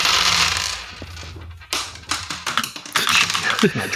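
Seven dice rolled together during a tabletop roleplaying session, a quick clattering tumble of small hard dice on a surface, close, with people talking over and around the rattle.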